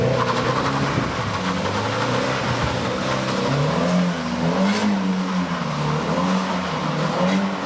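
A drift car engine revs and drones loudly and continuously, pitch rising and falling in waves, close by with no talking.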